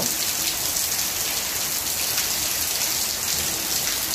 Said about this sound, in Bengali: ফুটে ফুটে বৃষ্টি পড়তেছে